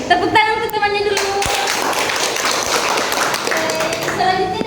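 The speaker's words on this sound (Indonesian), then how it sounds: "tepuk tangan untuk temannya dulu" A school class claps for a classmate, a steady wash of hand applause with a few sharper claps and some chatter underneath.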